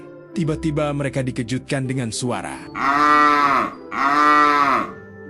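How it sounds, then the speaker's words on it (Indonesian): Cows mooing as a sound effect in a narrated Indonesian story: a narrator speaks first, then two long, loud moos follow one after the other. "Suara sapi Bejo terus terdengar saling bersahutan"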